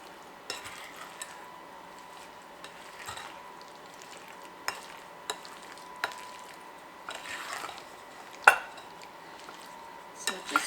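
Black currant pie filling is mixed in a bowl, giving soft stirring and occasional clinks of a utensil against the bowl, quiet and intermittent, with sharper taps now and then.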